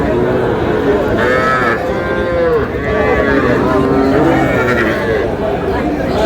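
A young bull calf moos repeatedly in drawn-out calls, close by, over a busy background of overlapping human chatter at a cattle market.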